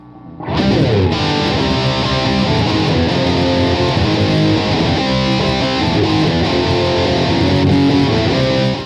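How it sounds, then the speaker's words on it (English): A heavily distorted Fender Stratocaster on the bridge pickup, played through a DOD FX69 Grunge pedal, plays a driving riff, thick and loud, sustained for several seconds without any voices. "The main riff is a Fender Strat on a bridge pickup through the grunge pedal"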